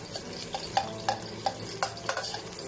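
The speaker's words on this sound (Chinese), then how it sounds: "倒入五花肉翻炒" Pork belly slices stir-fry in a hot wok with a low sizzle, broken by a run of sharp, evenly spaced scrapes and clacks from the spatula tossing the meat. No one speaks.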